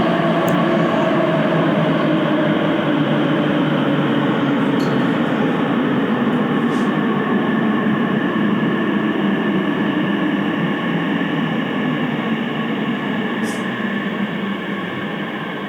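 An Elizabeth line train travelling westbound toward Paddington, heard from inside as a loud continuous rumble and rushing roar of wheels and motors that stays steady for the whole stretch with no talk.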